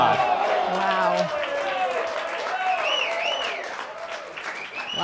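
Crowd applause and cheering after a racquetball rally, a dense wash of clapping with excited voices mixed in, steady and fairly loud before tapering slightly at the end.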